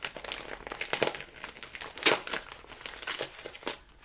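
A wrapped package being opened, with paper crinkling and tearing in close, irregular bursts that rise and fall for a few seconds, including a sharper rip near the middle and no talking.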